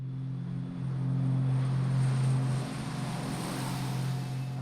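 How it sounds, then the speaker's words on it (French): A propeller airplane's engine drones steadily from mid-distance, swelling briefly louder before easing back to a constant hum, with no voices. "son avion décolle"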